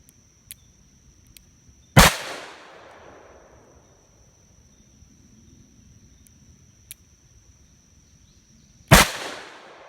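Two loud, sharp Smith & Wesson 586 .357 Magnum revolver shots ring out several seconds apart, each cracking hard and trailing off in a long echoing decay, with faint ticks and outdoor background between them.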